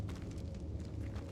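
A Confringo fire spell blast in Hogwarts Legacy, a low rumbling fiery burst with crackling hiss that rolls on steadily at a fairly faint level.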